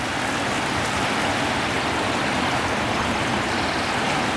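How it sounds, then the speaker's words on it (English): A fast-flowing river beside a campground rushes in a steady, loud broadband roar of churning water, continuous and close by with no voices over it. "See the nice river?"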